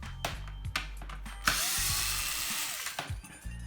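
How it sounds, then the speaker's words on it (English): Screws being backed out of an Xbox One X case, Torx T10 bolts on its side panel: sharp ratcheting clicks and short mechanical whirs, close and fairly loud, with a longer grinding stretch in the middle. "we're going to remove these Torx T10 bolts that hold this side of the case in place"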